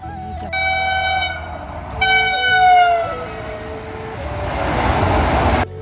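Train horn blasts at Howrah railway station in Kolkata, a loud tonal honk sounding twice in a few seconds, followed by the rumbling hiss of a moving train and station bustle.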